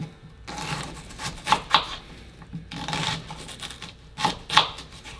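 Small knife chopping onions for a lentil soup on a board, a run of sharp dry cuts in two bursts with brief pauses between, close and moderately loud with no talk.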